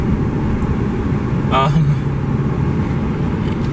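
A car engine hums steadily while the car is driven, with a low, even rumble and road noise throughout and a brief high chirp midway.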